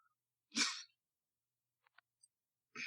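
A single sharp sneeze bursts out close by, followed by near silence with a few faint clicks before another brief noise begins.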